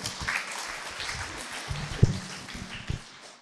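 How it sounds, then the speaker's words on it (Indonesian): Audience applause for Dr. Asto at a Tata Hati roadshow seminar, a moderate patter of clapping hands with a single sharper knock partway through. "tepuk tangan juga untuk Dr."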